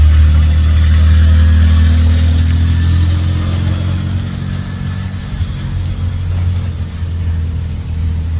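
A loud Honda car engine rumbles steadily close by, holding a deep low hum with slight fluctuations in pitch, no voices present.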